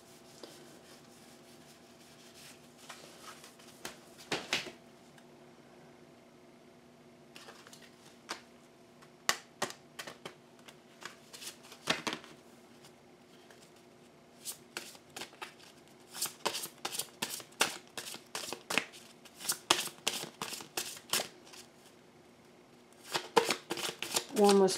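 Playing cards shuffled, flipped and rearranged by hand on a table, with soft rubs giving way to bursts of quick riffling snaps that grow louder and denser toward the end, with occasional speech.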